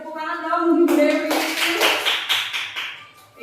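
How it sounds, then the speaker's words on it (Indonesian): A group of teachers claps together at a school training session, a burst of hand claps that starts after a spoken sentence and carries on for a few seconds, with voices mixed in. "tepuk tangan dong Bu Dewi"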